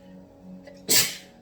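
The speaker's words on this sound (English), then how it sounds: "That sneeze was right there on the edge, right on the tip of my nose." A single sharp sneeze bursts out close to the microphone after a quiet moment of faint background hum.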